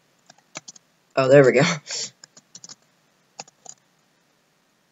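Computer keys are typed in short, scattered clicks while entering a penguin name in a Club Penguin Island game, with a brief spoken remark midway.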